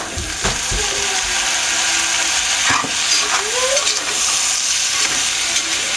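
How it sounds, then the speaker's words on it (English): Diced potatoes go into a pot of hot sausage for cheesy soup: a loud, steady sizzle and bubbling with repeated scraping stirs and clunks of a utensil against the pot, close up and without speech. "So to this, I am adding a pint of my diced potatoes."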